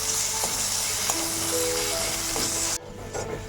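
Spice masala for a crab curry sizzles and fries steadily in a pan, with faint stirring clinks, then the hiss drops off sharply near the end.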